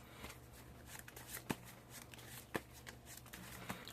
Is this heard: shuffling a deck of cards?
yes